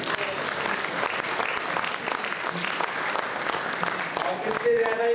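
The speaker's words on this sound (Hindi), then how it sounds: "एक दफ़ा इन 7 काउंसलरों के नाम पर भरपूर तालियां बजाएं।" An audience at a Pakistani community achievements awards event in Hounslow gives sustained, full applause for seven councillors, a dense, even roar of clapping with voices audible beneath.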